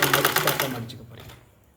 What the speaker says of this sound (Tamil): கழுத்து ஃபுல்லாக கிராஸ் பீஸ் தைச்சிட்டோம்.